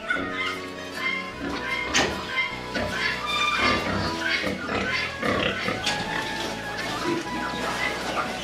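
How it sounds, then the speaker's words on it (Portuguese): Pigs on a small Brazilian farm grunt and squeal steadily for several seconds, the close, busy animal noise running continuously without any talk over it. "cria os porcos para fazer aí um toucinho, ou mesmo para vender um leitão para assar"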